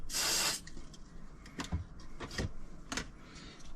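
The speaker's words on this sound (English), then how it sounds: "I'm gonna spray directly onto it, and I'm gonna rub it with the cotton bud" A short hiss of spray onto a sticky car MMI control button, then several quick scratchy rubbing strokes with a cotton bud in bursts, close and fairly quiet.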